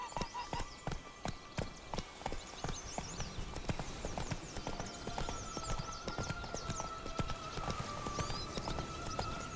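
Horse galloping in The Witcher 3: Blood and Wine video game, rapid rhythmic hoofbeats clip-clopping close by, starting crisp and distinct then blending into a denser run with faint birdsong and a tonal hum behind.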